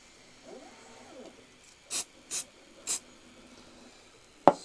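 Three short, sharp bursts of glue activator spray hit a small scratchbuilt model tent in roughly 28mm scale. The bursts are evenly spaced and close, with soft handling noises around them and a sharp click at the end.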